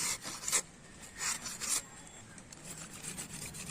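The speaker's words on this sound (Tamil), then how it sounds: "இதுமாரி இந்த மட்டையை நல்லா சீவி எடுத்துட்டோம்னா அருமையான ஸ்டிக்கை நம்மளே செஞ்சிடலாம்" A blade shaves a wooden stalk into a lollipop stick in a rural outdoor kitchen, with several short, rasping scrape strokes close by and fainter scraping afterward.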